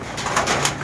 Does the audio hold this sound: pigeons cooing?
yes